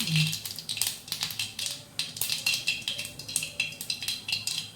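Washed shallots tumble into a pan for South Indian sambar, giving dense clattering crackles and sizzling bursts at close range throughout, with no voices.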